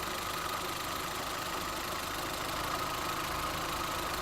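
An old car engine, bought for reuse in a forklift truck and started after three months unused, idles steadily and loudly at close range with a continuous, even rumble and no talk.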